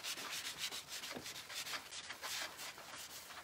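A paper towel rubs steadily back and forth over pallet wood, burnishing a transfer in quick, soft, scratchy strokes; close and quiet, with no talk.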